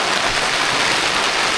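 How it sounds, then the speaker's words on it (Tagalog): Rain falls as a steady, dense hiss close by, even and unbroken throughout, with no voices. "Ayan na, umulan na."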